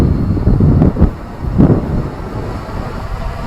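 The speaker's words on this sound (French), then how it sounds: "là il y a du vent" Gusty wind buffets an outdoor microphone while a fast XK X350 Air Dancer drone flies, with low rumbling bursts swelling and fading in uneven waves and no talking.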